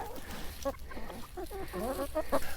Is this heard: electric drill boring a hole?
no